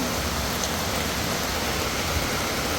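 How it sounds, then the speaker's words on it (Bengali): Rain falls steadily and evenly for the whole stretch, a dense, continuous wash of patter at moderate loudness with no voices. "বৃষ্টিও নামছে"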